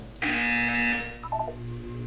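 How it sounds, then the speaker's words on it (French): A single harsh electronic buzzer from the game Portal 2 blares for under a second, followed by a few short, softer descending beeps. "Vous allez entendre une sonnerie."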